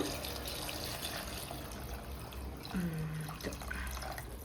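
Water runs and splashes quietly into a pot of masala-coated rice, a soft steady trickle with a few drips, fairly faint.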